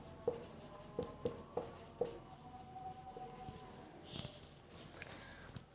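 Pen strokes scratch on paper in a quiet room, several short distinct taps and scribbles in a loose rhythm, close and faint, with no talking.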